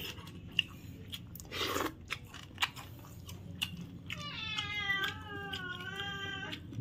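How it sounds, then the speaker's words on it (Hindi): A cat meows in a home kitchen where dried fish and prawns are being cooked; a drawn-out, wavering meow comes late, near and fairly faint, after scattered small clicks and a brief noisy burst, with no talk. "बिल्ली आसिकी"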